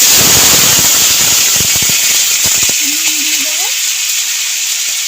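Tomato paste sizzling in a hot pan with cumin and bay leaf, a loud dense frying hiss close up, with stirring clatters early on and a voice speaking beneath it.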